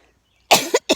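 Three quick coughs from a person, one harsh burst followed by two shorter ones, close and loud against a quiet background, brought on by pollen irritating the sinuses and throat.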